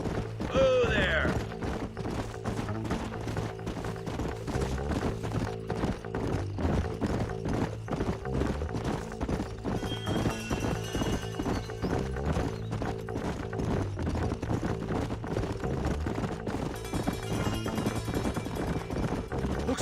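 Horse hooves clip-clop in a steady, brisk rhythm throughout a western video game ride, loud and close, with a soft mechanical rattle and a brief whinny near the start.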